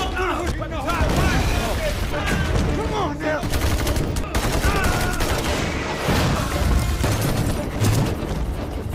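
Dense gunfire and explosions fill a film battle scene between American special forces and Taliban fighters in Afghanistan, with rapid volleys and booms running continuously under a narrator's voice.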